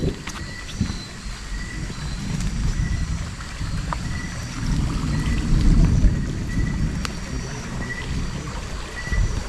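Thunder rumbles steadily outside an abandoned house, a low continuous roar swelling midway through, with a noisy outdoor wash over it.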